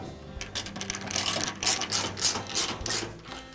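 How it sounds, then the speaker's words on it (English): Hand ratchet driving screws into the front bulkhead of a Whirlpool dryer during igniter replacement, a steady close clicking and whirring mechanical rattle at moderate volume, with no talk. "we'll reinstall the other two screws on the front of the bulkhead."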